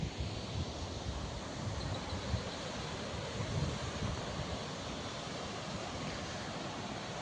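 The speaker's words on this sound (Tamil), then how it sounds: "இது வந்து அஜந்தா கோயிலினுடைய மேற்கு முனையில் இருக்கக்கூடிய அருவி" A waterfall at the western end of the Ajanta temple pours down a valley, a continuous, dense rushing wash of water mixed with wind buffeting, steady throughout with no voices.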